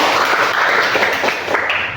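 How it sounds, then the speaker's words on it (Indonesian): Classroom applause after a group discussion presentation, a close, fairly loud patter of many hands clapping steadily before fading slightly at the end. "Kita beri tepuk tangan"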